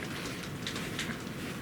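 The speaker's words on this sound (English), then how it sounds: "Okay, it's raining." Rain falls steadily outside a window right beside the listener, a dense, even hiss of drops that holds at a constant level throughout the short stretch with no other sounds.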